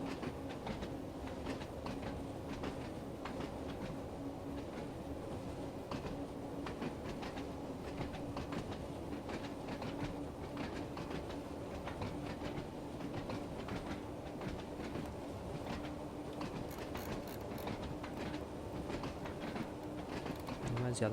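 A passenger train accelerating on the Isle of Wight line in Train Sim World 2, with a steady rumble and rolling track noise throughout, brief clicks near the end, and a voice speaking over it.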